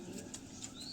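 A Madrazi breeding pair of pigeons briefly flaps its wings, a faint, soft fluttering heard close by and alone.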